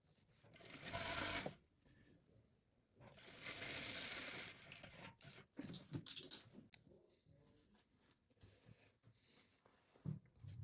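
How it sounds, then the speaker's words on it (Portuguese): A sewing machine stitches a seam on a patchwork quilt made of fabric scraps, running in several bursts of steady whirring with short pauses between them, close and fairly quiet. "E passo aqui uma costura."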